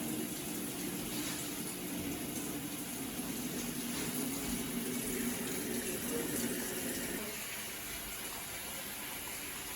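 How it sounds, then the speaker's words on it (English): An Avanti TLW 21D2P portable washing machine takes in water, a steady rushing fill with a low hum, continuous and close throughout. "right now the washer is taking the water, so everything looks good so far"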